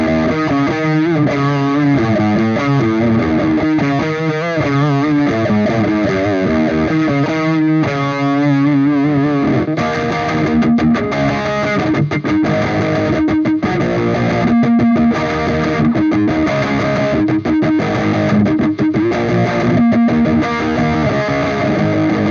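Noisy Fuzz Respect fuzz guitar tone through the AudioSingularity NeuronTube Tangie amp sim, a dense, saturated riff of chugging and picked notes that runs continuously and loud with no talking.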